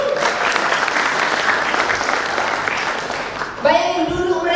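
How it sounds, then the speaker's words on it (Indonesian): Audience applause at a stand-up comedy show, a steady dense wash of clapping that fills most of the clip before a voice cuts in near the end over the fading claps. "Tepuk tangan dong."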